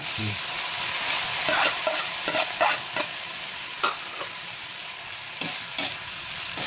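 Bean sprouts tossed into a frying pan of lumpia filling, a loud steady sizzle with a burst of stirring and scraping strokes, then calmer frying with occasional spoon scrapes.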